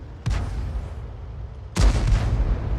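Two heavy artillery blasts in a tank video game, the second louder, one early and one later. A deep boom follows each shot and fades into a low rumble.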